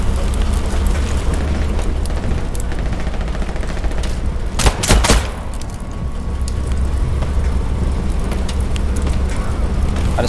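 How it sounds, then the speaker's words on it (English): Grenade explosions and rapid gunfire in the Hell Let Loose war game: dense crackling shots throughout, a sharp loud blast burst near the middle, then sustained rumbling battle noise. "Grenades at us."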